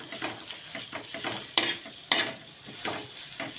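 Cluster bean thecha frying in a pan over a low gas flame, with a steady broadband sizzle broken by repeated scraping stirs and a few sharp utensil knocks, close and continuous.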